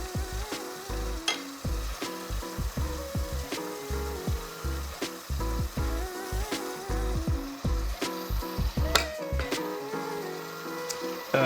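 Wood turning on a lathe with a dull spindle gouge while shaping a Saturn box with a captured ring: a steady run of rapid, near scraping and cutting bursts with intermittent tool catches, loud and continuous, no talk.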